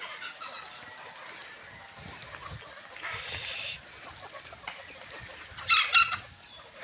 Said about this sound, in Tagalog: Pinakakain na ng ating magiting na si Baldo ang ating mga stag.